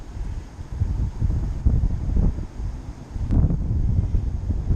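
Gusty wind buffets the microphone during a drone flight, a low, rumbling roar that rises and falls in uneven waves.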